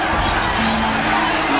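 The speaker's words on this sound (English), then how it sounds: "Crowd chanting Mexico" A boxing crowd chants 'Mexico' in a roaring, steady wall of voices during the Chavez versus Taylor fight, loud and continuous throughout the brief stretch.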